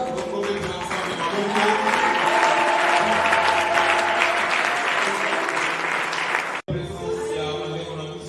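A church congregation at a year-end worship service bursts into loud, sustained applause, a dense wash of clapping that breaks off abruptly for an instant near the end and then resumes, with voices mixed in.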